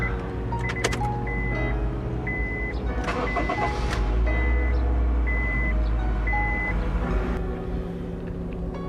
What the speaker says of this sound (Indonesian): Mari kita nyalakan mesinnya.